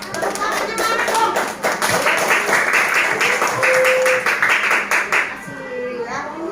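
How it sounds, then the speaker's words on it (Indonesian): Classroom applause for a student named Sophie during an Indonesian elementary lesson, a dense run of children's hand claps lasting several seconds before tapering off, with some children's voices mixed in. "Tepuk tangannya mana dong?"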